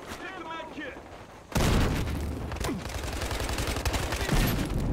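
Gunfire in the shooter game Battlefield Hardline: after a quiet start with a voice, a loud continuous burst of shots and booms takes over and keeps going, with talk faint underneath.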